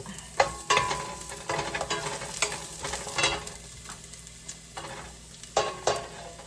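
Garlic frying in olive oil in a pan for congee sizzles softly beneath uneven bursts of stirring and spatula scraping. The scraping rises and falls in short strokes, and no voices are heard.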